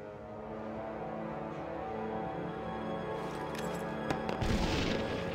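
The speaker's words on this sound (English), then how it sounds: "now you can slide 2 fingers across the screen to throw grenades, like so." Grenades are thrown and explode in an iPad shooter game, dull booms and crackling blasts arriving near the end over a steady background rumble.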